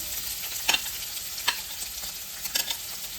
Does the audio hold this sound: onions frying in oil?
yes